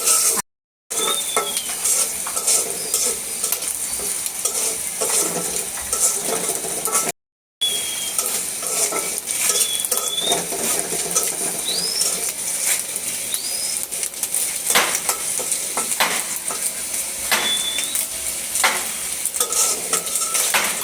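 A steady hiss of onions and prawns frying in a pan, with repeated scraping and clinking of a spatula stirring throughout, plus a few short squeaks.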